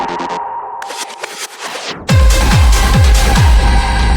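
Two reversed loops form a build-up in a hard melodic techno track. Swelling, backwards-sounding textures with abrupt cuts rise for about two seconds, then give way to a loud pounding kick drum beating steadily under dense synths.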